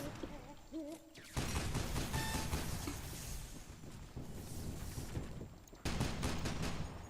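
Rapid bursts of gunfire from a gun in the shooter video game Loadout, sustained automatic shots in long stretches separated by short pauses, fairly quiet overall.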